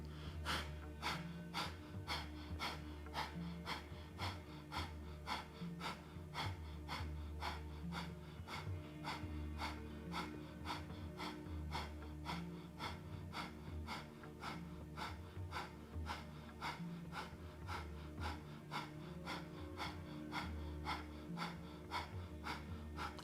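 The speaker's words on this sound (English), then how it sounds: "if breath of fire works for you here, do some breath of fire" Rapid rhythmic breath of fire in a kundalini yoga class: sharp nasal exhalations pulse steadily about twice a second, close and even throughout, with no talk.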